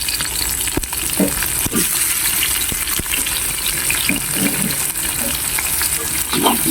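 Garden-grown organic tomatoes are stirred into a mung bean stew frying in a pan: a steady, loud sizzle with soft scraping and occasional spoon knocks, close up, without talk.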